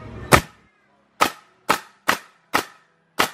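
MAX CN630 pallet coil nail gun firing nails: six sharp, loud pneumatic shots, the first followed by a brief hiss, then five evenly spaced quick bangs with short silences between.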